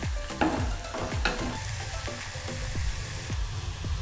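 Kothu stirred with chili powder in a frying pan, a steady hiss of sizzling under repeated scraping and clanking strokes of the utensil, close and loud, no voices.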